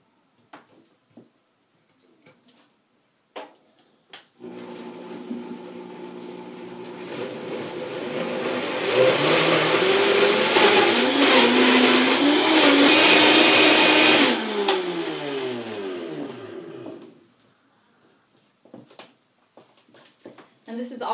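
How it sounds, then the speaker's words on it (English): A countertop blender purees basil-lime coconut pudding, running as a loud, steady whirring drone that builds in intensity and then winds down, with brief clunks and knocks before and after. "And then we're going to blend it all together."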